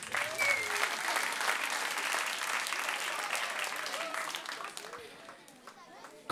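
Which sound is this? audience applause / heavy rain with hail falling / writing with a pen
audience applause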